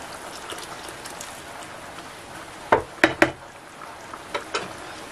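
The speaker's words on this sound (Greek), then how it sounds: "Θα συμπληρώσω με νερό καυτό." Hot water streams into a cooking pot holding meat and tomato juice, a steady soft splashing wash broken by a few sharp knocks and clinks against the pot, close and without talk.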